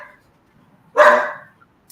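A single sharp dog bark rings out close by during an interview at home, cutting through an otherwise quiet room, with a faint brief yip afterward.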